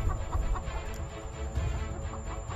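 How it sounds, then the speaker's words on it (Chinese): A mother hen protecting her chicks clucks repeatedly in short bursts while fighting a king cobra, the calls close and rhythmic over a busy noisy background with a steady high whine. "老母鸡大战毒蛇"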